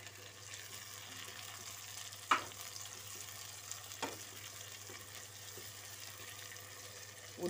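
Onions that have begun to brown fry steadily in a pan as tomatoes go in, giving a soft continuous sizzle with a couple of sharp clatters, heard alone without talk.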